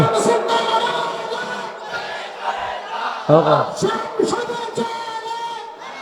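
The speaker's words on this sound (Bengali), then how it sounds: "যুবকরা ইনশাল্লাহ এবার স্লোগান দেবে" A young crowd chants slogans together at an Islamic party political rally in Baniachong, Habiganj, with loud, massed voices rising and falling in rhythmic bursts over a steady, reverberant background.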